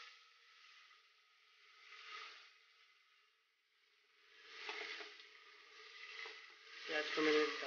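Onions sizzling in a hot pan while making koyla chicken, a soft steady hiss that swells in waves, with occasional spoon scrapes and a louder burst near the end.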